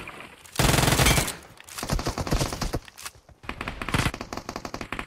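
Gunfire from a gun in a Gameloop-run video game, loud rapid automatic bursts in three separate volleys with short gaps between them, close and dominant with no talk.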